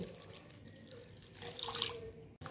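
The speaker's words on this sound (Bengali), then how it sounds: "এবারে এর মধ্যে আমি পরিমাণ মতো জল দিয়ে দেব।" Water poured into a cooking pot while making a sour shol fish curry with dried mango, a steady splashing flow that swells louder toward the end, then cuts off abruptly.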